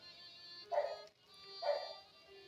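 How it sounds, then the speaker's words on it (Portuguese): A dog barks twice out in the street, two short separate barks that stand out over a steady background hum. "Você vai ver cachorro latindo agora"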